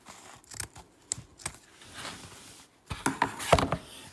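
Scissors snipping through craft material, several sharp close cuts scattered across a few seconds with a quick cluster near the end.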